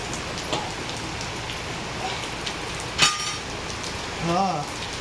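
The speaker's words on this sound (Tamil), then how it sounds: "சரியான மழை." Heavy outdoor rain roars steadily and close, with a sharp clink partway through and a short voice-like tonal sound near the end over the downpour.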